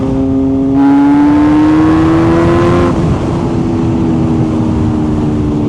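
Supercharged Kawasaki H2 motorcycle at full throttle from about 4,000 RPM, a loud engine roar with a rising whining pitch that climbs for about two seconds, then drops into a steady, heavy drone.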